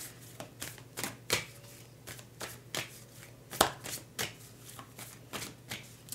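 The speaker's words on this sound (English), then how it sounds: "I'm going to shuffle the cards." Tarot cards being shuffled by hand in a quiet room, a run of crisp riffling bursts and soft slaps at an irregular pace over a faint steady hum, close and fairly quiet with no talking.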